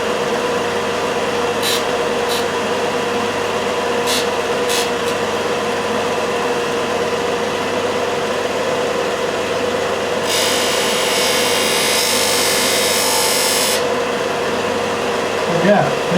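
A Ferrex disc and belt sander from Aldi, used in a guitar workshop, runs for a few seconds with a loud, steady broadband whir over an ongoing background hum, after a few brief taps earlier.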